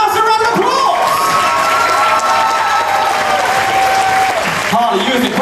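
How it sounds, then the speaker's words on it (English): A loud, close crowd of children and adults at a magic show claps and cheers, with voices shouting over the steady applause. "Give her a massive round of applause!"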